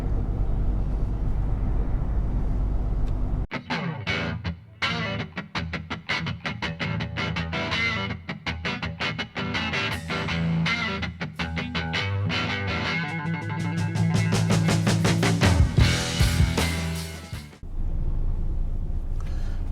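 An Audi crawls at about 27 mph in heavy motorway traffic near roadworks on the way to Hull, a steady low engine and road rumble with choppy bursts of cabin noise partway through.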